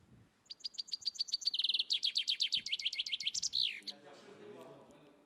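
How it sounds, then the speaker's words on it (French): A chaffinch sings one full song phrase: rapid high chirps speed up into a descending trill and end with a flourish. The song is close and clear, followed by faint background murmur. "Et non, c'était le pinson"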